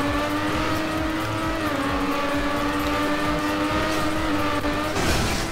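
A race car engine in TrackMania Nation Forever drones continuously at high pitch, holding a steady tone for several seconds before a brief shift near the end, with no talking.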